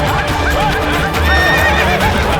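A horse in a battle setting neighs loudly in a long, rising and falling whinny, close by, over a busy background of hoof clatter and commotion.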